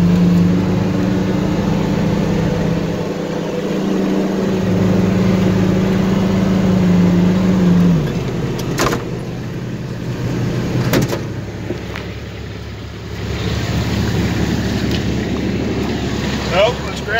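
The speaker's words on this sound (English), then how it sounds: "Oh, now this is three diesel cold starts because I did this." A Ford 7.3 diesel flatbed truck engine runs after a cold start at about 20 degrees. A loud, steady low drone shifts and drops after about eight seconds, with wind noise and a few knocks around it.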